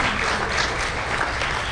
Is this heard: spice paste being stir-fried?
no